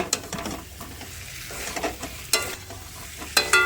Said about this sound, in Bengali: ডিমটাও দিয়ে দেব ডিমটাও একটু কষিয়ে নেব